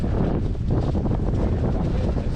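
Strong wind buffeting a microphone beside a truck outdoors, a steady loud roar with gusty rumble throughout and no talking.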